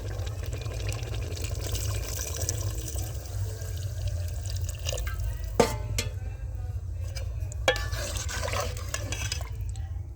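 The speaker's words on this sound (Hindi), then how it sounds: "धुलाई हो गई, अब हम इसमें डाल देंगे पानी।" Water poured into a pot of washed potatoes and peas for aloo matar, a steady close splashing and trickling wash with a few sharper clinks of the pot partway through.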